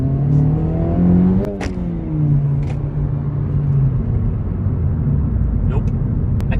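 The 4-cylinder engine of a 2024 Acura Integra Type S pulls under acceleration, a steady rising hum heard from inside the cabin while people talk over it.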